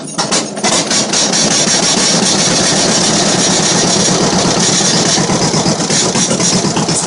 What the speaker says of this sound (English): Starts up like a champ every time now.